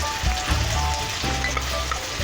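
Ginger, salt and turmeric frying in oil for a prawn and taro curry, giving a dense, loud sizzle close by with low stirring thumps, no voices.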